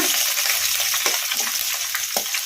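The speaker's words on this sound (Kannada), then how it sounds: "ಈಗ ಅಜ್ವಾನ ಕೂಡ ಫ್ರೈ ಆಗಿದಾವಲ್ಲ, ಈಗ ಇದಕ್ಕೆ ಹಸಿಮೆಣಸಿನ್ಕಾಯಿ ಹಾಕೋಣ" Green chillies go into ajwain frying in oil, giving a bright, continuous sizzle with a few sharper pops and clicks from the pan.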